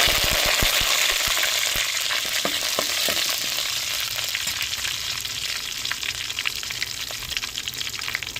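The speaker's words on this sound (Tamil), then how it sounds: "எண்ணெய் சூடாயிருச்சுங்க, கடுகு போட்டுக்கிறோம். 2 வத்தல் சேர்த்துக்கிறோம். தேவையான கருவேப்பிலை போட்டுக்கிறோம்." Mustard seeds, dried red chillies and curry leaves crackle and spit loudly in hot oil, with dense popping bursts that ease slightly toward the end and no talking.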